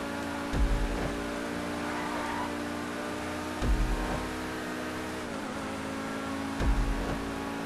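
A Pegassi Tempesta supercar in GTA 5 revs its engine in three separate bursts, each a sharp rising roar over a steady idle, close and fairly loud.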